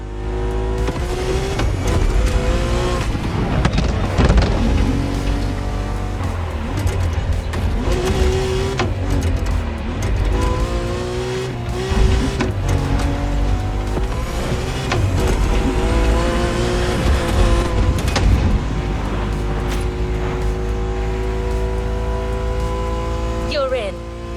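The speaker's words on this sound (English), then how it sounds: "Good thing you're driving the 1969 Camaro Z28." A 1969 Camaro Z28 engine races in The Crew Motorfest, a continuous loud roar with rising and falling revs through gear changes, mixed with game music and talk throughout.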